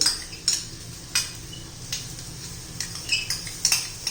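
A spoon beating two spoonfuls of yogurt with green chilies in a bowl, a series of irregular clinks and taps against the dish over a low hum, close up.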